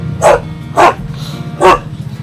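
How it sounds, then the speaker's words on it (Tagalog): Several dogs barking in three separate loud bursts roughly half a second apart, close by, over a steady low background hum with no talk. "Dami aso."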